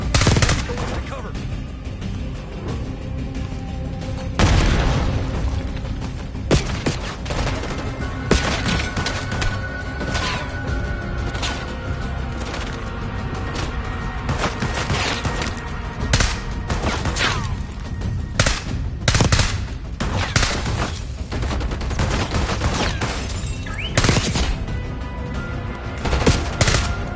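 Sustained gunfire in Call of Duty Black Ops 6 rattles in dense automatic bursts with booming impacts and a grenade explosion, loud and continuous throughout a chaotic firefight, with brief voices mixed in.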